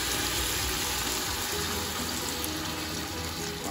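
Water poured into a pan of pumpkin cooking on the stove, a steady loud close rushing and splashing that runs unbroken throughout, with no talking.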